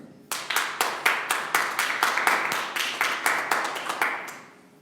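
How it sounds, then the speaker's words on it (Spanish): A church congregation clapping in time, sharp rhythmic claps in a fast steady beat that start abruptly, carry on for several seconds and then fade into a softer tail. "Denle un aplauso al Señor"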